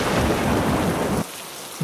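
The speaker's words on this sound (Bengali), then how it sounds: "বাইরে ঝড় বৃষ্টি দরজায় বজ্রপাতের আলো এসে পড়ছে ঘরের ভেতর" Loud thunderstorm with steady heavy rain pouring and a deep rumble, then dropping suddenly to a quieter rain wash before surging again at the end.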